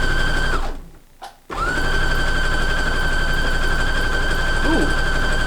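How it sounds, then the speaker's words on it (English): A freshly serviced sewing machine stitches a zigzag test, giving a loud, close, continuous hum with a steady whine that cuts out briefly near the start and then resumes evenly. "this is his little test part, so let's test the zigzag stitch"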